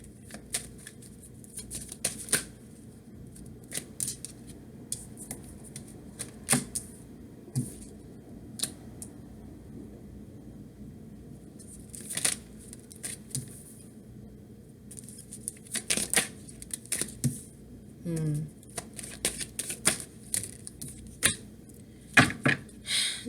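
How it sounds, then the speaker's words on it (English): Tarot cards are handled on a table, with soft shuffling rustles and scattered light snaps and taps as cards are laid out one after another, close and quiet with no talking. "let's get the rest of our cards out here."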